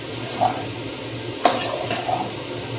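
Chilli chicken is stirred in a pan over a low sizzle, with a few sharp metal utensil clinks and scrapes against the pan.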